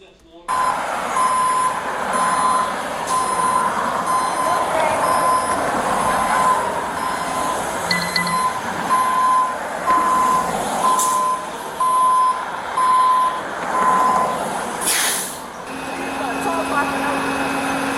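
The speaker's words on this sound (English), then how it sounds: "And they're towing her car." A tow truck hauling away a car sounds a steady, evenly spaced series of loud reversing beeps over a low engine rumble, with voices heard faintly in the background.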